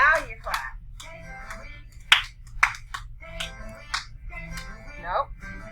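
Sharp hand claps and snaps ring out in an irregular rhythm during a classroom circle-time song, mixed with a teacher singing and talking nearby.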